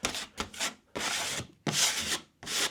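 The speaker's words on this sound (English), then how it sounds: "Bit of a good old scrape." Repeated rough scraping strokes work over damaged drywall before it is filled with cornice cement, coming in four or five loud close rasping passes with short pauses between them.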